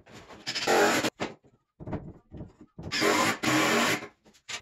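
A power drill drives screws into the wooden legs of a water table built from an old 55-gallon drum, in several close, loud whirring bursts separated by short pauses.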